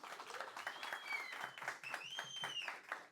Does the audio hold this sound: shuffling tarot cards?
no